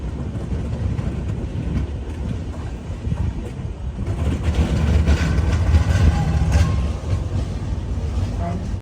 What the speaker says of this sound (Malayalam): സമയം ഇപ്പോൾ 7:14 തിണ്ടിവനം റെയിൽവേ സ്റ്റേഷനിലേക്ക് ഇതാ നമ്മുടെ ട്രെയിൻ എത്തിക്കൊണ്ടിരിക്കുകയാണ്.